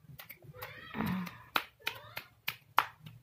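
Children clap their hands during play, a series of sharp, separate claps spaced unevenly over a few seconds, with a voice rising in between.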